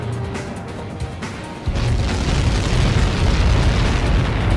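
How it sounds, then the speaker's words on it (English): A big explosion in the combat flight game Ace Combat 7: Skies Unknown erupts as a sudden loud, roaring boom that rolls on as a dense, sustained rumble after a quieter lead-in. "How many got caught in that explosion?"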